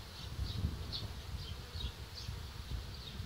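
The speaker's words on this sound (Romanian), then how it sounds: "Se face încet-încet roiul." Honey bee swarm forming at a hive during artificial swarm division in late July, giving a steady low buzzing hum with soft repeated higher whines, moderately close and continuous without voices.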